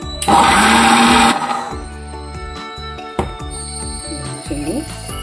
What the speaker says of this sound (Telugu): కొంచెం కొత్తిమీర కరివేపాకు మిక్సీ వేసుకోవాలి